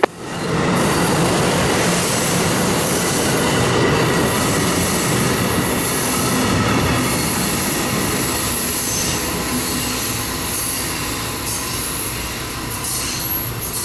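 An Amtrak passenger train rolls past a railroad crossing, a loud, steady rumble of wheels on rails with high squealing, heard close up and continuously for the whole stretch.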